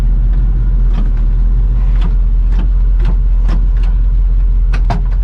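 A barn-find 1971 Pontiac Formula driving off on its first outing in years, its engine a loud, constant low rumble close by, overlaid with repeated rattles and knocks.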